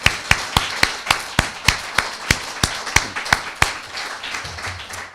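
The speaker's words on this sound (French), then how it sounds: "À la limite, on peut les applaudir" An audience claps at an annual presentation on a national rare diseases plan: sharp, evenly spaced claps in a steady rhythm, close and clear, about fifteen beats before softening toward the end.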